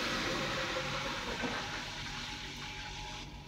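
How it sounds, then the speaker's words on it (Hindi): In a pump room, a water pump motor runs with a steady broadband hiss and rush of flowing water. The sound is loud and continuous, easing slightly toward the end. "ये मोटर चल गया, पानी निकल रहा है।"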